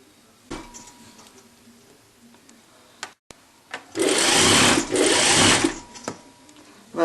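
Sewing machine stitching a centimetre of fabric on a chemisier-cravate blouse kit, heard as two loud, steady whirring bursts of rapid needle strokes after a few faint clicks and handling sounds.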